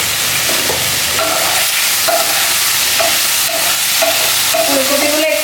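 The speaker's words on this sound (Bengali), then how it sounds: "এই ফুলকপিগুলো একটু নাড়া করে" A spoon stirring cauliflower florets in a pan, scraping in a steady rhythm over a continuous close sizzle of frying, with no voices.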